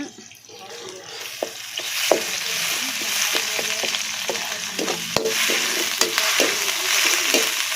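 Crushed ginger and garlic sizzle and fry steadily in a hot pan, with repeated stirring scrapes and taps throughout, close and fairly loud with no talk.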